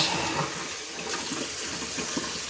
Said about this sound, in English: I think I'm going to add a little more water to keep it from burning